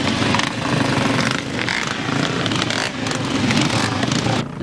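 Pre-65 four-stroke motorcycles over 250 cc, B class, racing in a classic scramble at Hawkstone: a loud, continuous roar of several engines close by, swelling and dipping as bikes rev and pass, with no voices.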